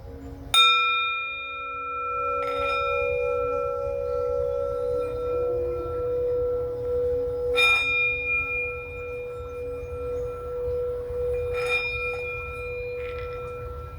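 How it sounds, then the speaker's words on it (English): A Buddhist prayer bell is struck four times at slow, uneven intervals, each strike ringing out clear and sustained, the long tone overlapping into the next strike in a quiet room. "I would like to take some time as I ring the bell to say a prayer,"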